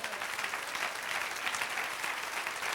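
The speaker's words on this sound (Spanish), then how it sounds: "Denle un aplauso ahora al Señor." Church congregation clapping in praise during a Spanish-language sermon, a dense, steady wash of applause from a large room, evenly sustained and slightly distant.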